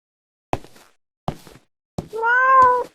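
A cat in the horror video game CLINK gives a meow at close range after three short dull thumps.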